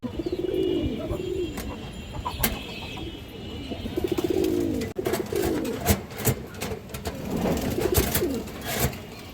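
High-flyer pigeons, including black-tailed birds, coo in soft repeated rolling phrases at a farm, close and steady, with sharp clicks and knocks and a little chirping in the background.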